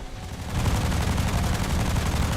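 Aircraft guns in a War Thunder dogfight produce a dense, continuous rattling burst, with glitched firing that stays steady and loud throughout and no voice over it.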